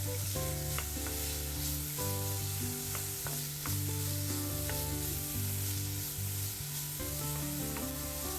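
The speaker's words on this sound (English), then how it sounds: "On a high flame, saute the bittergourd for 15 minutes until it's brownish in color." Chopped bitter gourd sautés in a pan over a high flame, giving a steady close sizzle and frying hiss with occasional stirring scrapes, under a constant low hum and without speech.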